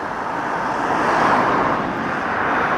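An airplane passes low overhead near Hatton Cross Station by Heathrow, a loud, broad jet roar that swells toward the middle and holds steady without any talk.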